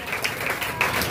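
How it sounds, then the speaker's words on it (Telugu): Applause from a church congregation during a Telugu Easter sermon: a steady, broadband wash of many hands clapping together, moderately loud and even throughout, with a few sharper swells and no voice on top. "చప్పట్లు కొట్టి దేవుని నామాన్ని మహిమపరచు."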